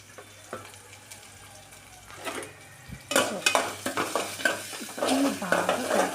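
Onions frying in a pan while a spoon stirs them, starting as a soft sizzle then rising into loud, close scraping and clinking strokes over crackling oil, no speech.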